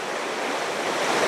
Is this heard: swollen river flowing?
yes